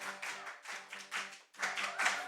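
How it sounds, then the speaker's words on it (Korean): Rhythmic hand claps during a Korean church worship song at a Sunday service, several steady claps in time with singing voices and music. "손뼉쳐."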